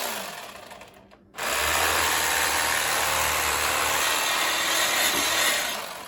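Electric knife slicing oranges into thick rounds, a steady buzzing motor whine that starts abruptly after a short quiet moment, holds level for several seconds, then eases off.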